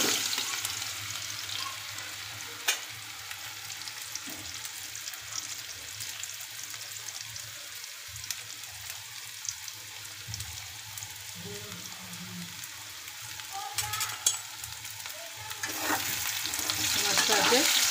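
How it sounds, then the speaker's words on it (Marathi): Potatoes for dum aloo shallow fry in hot oil with a continuous, hissing sizzle, broken by occasional clinks and scrapes of turning and a few louder spatters toward the end. "आणि मग हे आपण शालो फ्राय करणार आहोत"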